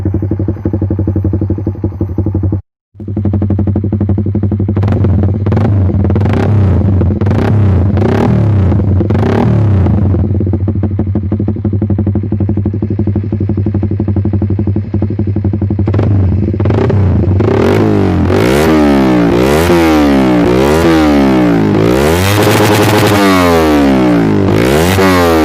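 A Honda Supra Fit X motorcycle with a bamboo exhaust revs loud and close. A deep idle rises through repeated throttle blips into fast, rising and falling revving near the end.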